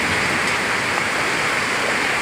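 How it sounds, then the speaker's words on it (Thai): Heavy rain pours down in a dense, unbroken hiss, loud and close, steady throughout with no voices or other sounds standing out. "โอ้ฝนตกพี่น้องเอ้ยฝนตกไม่ไหวละยาย"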